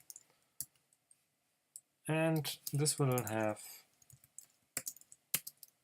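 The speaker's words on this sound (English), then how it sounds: "Oh, look at this, I'm typing too much." Typing on a computer keyboard while coding an ESP8266 temperature and humidity sensor project: scattered soft clicks and taps, sparse and fairly quiet, with someone speaking briefly over the middle of them.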